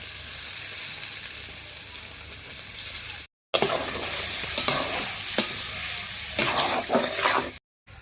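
Spiced bhetki fish gravy sizzling in a pan while being stirred, a dense continuous hiss of frying with scattered spatula scrapes and taps, close and fairly loud, broken by two short gaps, with no talking.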